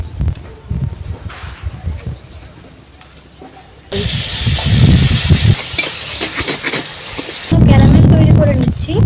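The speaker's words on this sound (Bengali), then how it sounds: "ক্যারামেল তৈরি করে নিচ্ছি।" Sugar with a little water hisses and bubbles in a kadai as it heats into caramel, the sizzle getting much louder partway through, with speech heard over it.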